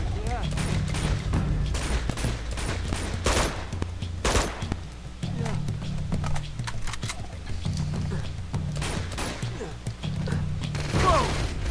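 Turret gunfire in the action game Uncharted 2, rapid bursts of shots and impacts in repeated runs over a rumbling low background and game effects, with players talking throughout.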